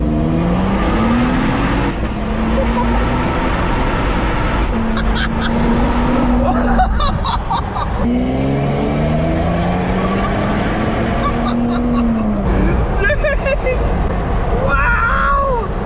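Modified Lexus GX 550 SUV, tuned for about 100 extra horsepower, revving repeatedly with rising and falling engine pitch and a whooshing, turbine-like note, loud and close, with people talking over it.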